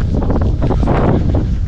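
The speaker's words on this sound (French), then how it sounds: "Il y a un vent de ouf." Strong outdoor wind buffeting straight into the microphone, a loud continuous low roar with gusty surges across the whole stretch.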